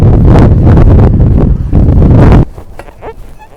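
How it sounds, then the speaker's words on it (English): Strong outdoor wind buffets the microphone in loud, low rumbling gusts, then drops off sharply to a quieter, softer rustle in the last second. "it's still very windy"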